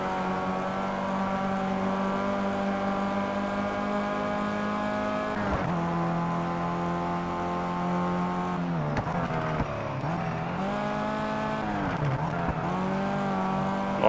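Formula 1 race car engine whining loudly and steadily in the rain in the racing game Project Cars, with the pitch dipping and rising sharply during downshifts and acceleration, close and continuous, with no talking.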